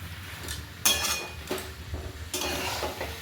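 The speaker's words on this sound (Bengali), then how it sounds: "এরপর দিয়ে দিচ্ছি এবার আলুটা আলুটাকেও বেশ ভালো করে মশলার সাথে কষে নেব" Potato chunks stirred and fried in a pan with spiced gravy, giving scraping, clinking strokes of a utensil against metal over a soft sizzle, close and moderately loud, with no talking.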